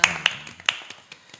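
A few people clap sparsely to thank a guest on a small talk show about in-house legal work. Five or six scattered, sharp claps come close by within a second and a half.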